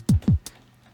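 A simple drum beat layer for a video game score plays two quick punchy kick hits followed by a brighter snare-like tap, short and up close.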